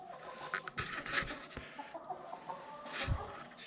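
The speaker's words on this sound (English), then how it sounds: "Chickens don't like being locked out of the barn." Chickens clucking outdoors beside a barn, short irregular clucks and calls rising now and then over a steady outdoor background, with a few louder knocks mixed in.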